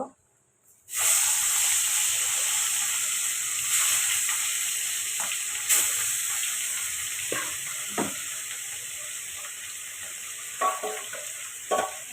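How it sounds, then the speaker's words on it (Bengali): Rohu fish frying in hot oil in a pan, a steady bright sizzle that starts abruptly and holds throughout, with occasional small pops and crackles over the constant hiss. "তেলটা গরম হয়ে গেছে, এখন আমি মাছগুলা হালকা করে ভেজে নিব।"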